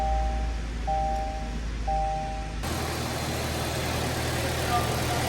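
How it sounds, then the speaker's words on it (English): A 2019–2024 Kia Forte, in the middle of a water pump replacement, cranks and starts, then settles into a steady idle after a few seconds of quieter engine sound, continuous and close. "Then start the engine."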